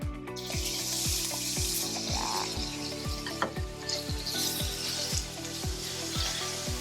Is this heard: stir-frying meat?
yes